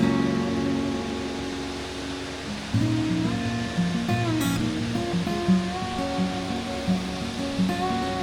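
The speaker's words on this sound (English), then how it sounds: "This guy's got its own pretty much private waterfall on a lake" Continuous rushing water from a waterfall on a lake, a steady broadband roar with some tonal hum and faint background sounds over it.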